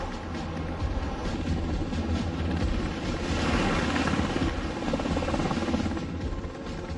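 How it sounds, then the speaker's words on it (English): A helicopter roars steadily nearby on the aircraft carrier USS Ronald Reagan, its rotor thumping in a fast, continuous beat under a loud engine drone. "Helicopters also help out."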